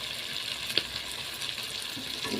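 A steady, fairly quiet sizzle comes from a pan of chicken gizzard and liver curry with potatoes as water is poured in, with faint stirring taps.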